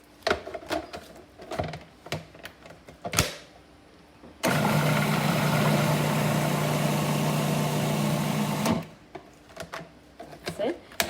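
A food processor grinds green chilies, garlic and chickpeas for falafel in one loud, steady whir of about four seconds, with clattering handling noises and talk before and after.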